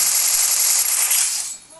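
Rapid automatic gunfire rattles loud and close in the Free Fire video game, a brief sustained burst that fades at the end.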